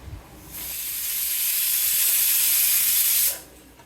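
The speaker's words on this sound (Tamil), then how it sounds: "குக்கரை மூடி ஒரு விசில் வச்சுட்டு அடுப்பை ஆஃப் பண்ணிடலாம்." A pressure cooker on a stove cooking ridge gourd, tomato and lentils gives one loud, sustained hissing whistle of escaping steam that starts abruptly, holds steady for about three seconds, then cuts off.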